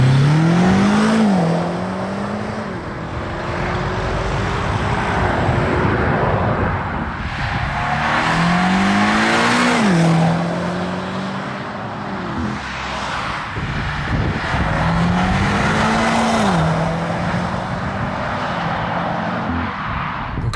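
A BMW M5 Competition drives past repeatedly on a road with roundabouts. Its engine rises and falls as it approaches, revs and fades, loud and close, with no talk over it.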